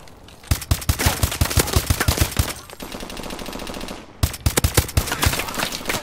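MK14 rifle fire in the video game Call of Duty: Advanced Warfare: loud, rapid bursts of shots in a steady rhythm, a brief lull, then another fast string of shots, with no voices.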